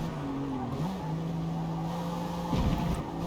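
A Honda NSX race car engine in Forza Motorsport drones at high revs with a steady pitch that shifts slightly, then a brief skid or burst of noise cuts in near the end.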